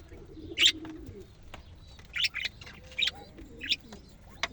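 Birds cooing and chirping near a quail pen: several sharp chirps arrive in irregular bursts over a soft, low cooing, moderately close, with no speech.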